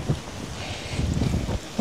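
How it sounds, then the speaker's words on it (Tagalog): Strong wind buffets the microphone outdoors near an abaca and banana plantation, a low rumbling gusty roar that runs continuously with no voices. "Lakas ng hangin."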